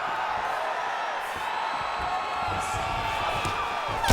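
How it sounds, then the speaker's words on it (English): The arena crowd at a UFC Saturday Night event roars and cheers steadily as the fighters get back to their feet, a broad sustained swell of voices heard from afar. "the crowd pops in appreciation as the fighters work their way back to the feet"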